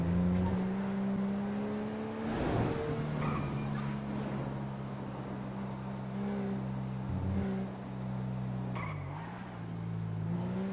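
Car engine droning steadily in GTA V roleplay driving, with brief tire squeals from drifting and shifting engine pitch, loud and continuous throughout without talk.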